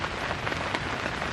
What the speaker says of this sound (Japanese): この雨とちょっと時々吹く強風がちょっと危険すぎる